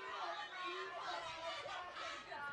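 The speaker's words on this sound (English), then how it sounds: "You can hear the crowd getting very vocal" Loud, dense crowd noise from spectators at a 2014 varsity football match involving Christchurch, with many voices blending into a steady roar and chant-like swells throughout.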